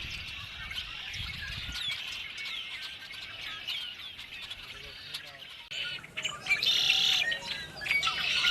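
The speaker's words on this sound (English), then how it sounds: "the Cactus Garden has several bird feeders which attract a good number of desert-dwelling birds" Desert birds, mostly red-winged blackbirds, chirp and call around feeders in a cactus garden, a busy overlapping chorus of whistles and tweets that grows louder and brighter near the end.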